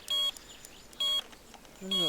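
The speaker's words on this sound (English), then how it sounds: "So if you wait for the bite alarm, you know you've definitely got the fish." Electronic bite alarm on a fishing rod in the video game Euro Fishing, giving short repeated high beeps in separate bursts over quiet background ambience, with a lower tone at the end.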